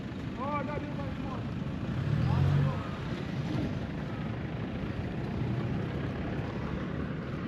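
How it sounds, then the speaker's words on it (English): Outboard motor at the back of a small vehicle-carrying river ferry at Kei Mouth, running as a steady low rumble and hum throughout, swelling briefly near the middle, with someone talking over it. "The outboard motor here at the back."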